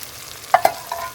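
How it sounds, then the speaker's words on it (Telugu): Blended tomato puree for egg curry goes into a hot pan, giving a few quick splats and a short sizzle up close, with no voices. "ఇంక ఇప్పుడైతే మాత్రానికి మిక్సీ పట్టుకున్న టమాటా పండ్లను అయితే వేస్తామండి."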